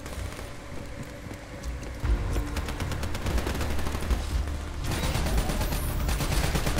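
A light machine gun fires in Call of Duty: Black Ops III, starting with scattered shots and then breaking into a loud, rapid, continuous burst of gunfire that grows denser and louder toward the end.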